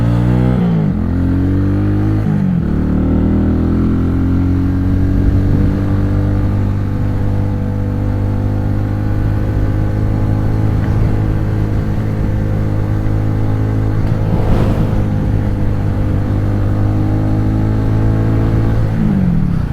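An XMT 250cc motorcycle engine drones and revs while riding, loud and close, its pitch rising and falling through gear changes over steady road and wind noise.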